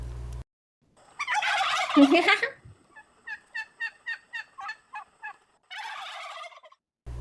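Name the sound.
turkey gobbling, radio drama sound effect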